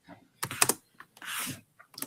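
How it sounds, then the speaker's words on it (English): Typing on a computer keyboard: clustered bursts of key clicks with short pauses, close and fairly loud, heard alone without talk. "What is that I hear? Oh, I'm typing."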